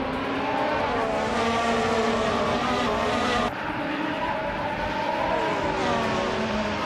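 Race car engines howl at the start of a racing video game, led by a 2016 McLaren MP4-31. Several loud, close engines whine together and climb in pitch, with an abrupt shift midway as one car surges ahead.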